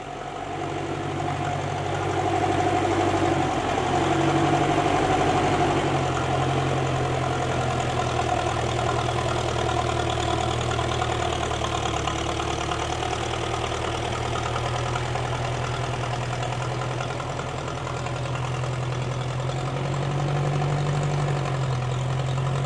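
A 1947 Ferguson tractor engine idles while warming up, a steady, low, even chugging drone held close and constant throughout with no talk.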